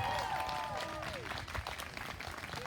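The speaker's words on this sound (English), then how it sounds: "Let's give them a nice round of applause." A school moving-up ceremony crowd applauds graduating fifth graders as they stand, a broad wash of clapping carrying on steadily with a voice or tones briefly heard over the start.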